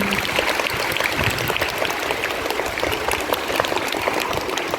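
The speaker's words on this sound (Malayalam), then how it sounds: "ഇവർക്കൊക്കെ ഒരു നല്ല ക്ലാപ്പ് കൊടുത്തതിന് എല്ലാവരും" An audience applauds kindergarten children after their dance at a school feast day celebration. The clapping is steady, dense and close, and it fills the whole stretch without pause.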